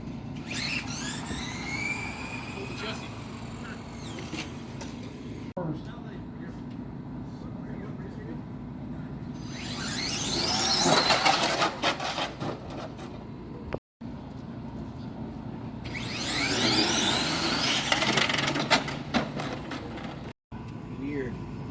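Race car engines scream past at a Big Sky Shootout race. Three passes rise in pitch and loudness and then fade, over steady crowd and track noise with voices mixed in.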